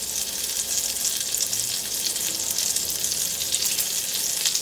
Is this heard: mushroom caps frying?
yes